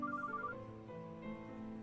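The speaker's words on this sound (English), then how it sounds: "The sound of the phone ringing drags me back to reality." A phone rings in the video game MLQC, a soft repeating electronic tone pattern set over quiet background music.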